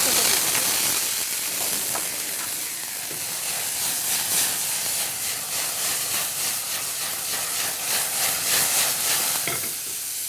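Julienned chicken frying in a hot pan, a loud, dense, continuous sizzle and hiss with occasional crackles and stirring scrapes, close and steady throughout.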